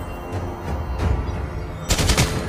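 Gunfire from the mobile game Mobile Legends: Bang Bang, with a rapid burst of shots in quick succession, loud and close, followed by a brief pause and another short flurry near the end.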